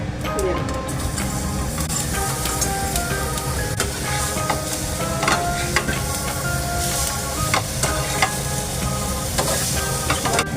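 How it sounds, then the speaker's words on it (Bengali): Mustard seeds crackle and sizzle in hot oil as a tempering, a dense close frying hiss with scattered pops throughout, mixed with a low background rumble. "এই যে সর্ষে ফোড়ন দিয়ে দিলাম"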